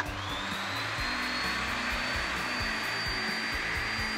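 An air compressor drawing 1,000 watts from a portable power station, with its motor giving a loud, steady whine and hum and a low pulsing rattle underneath that runs throughout.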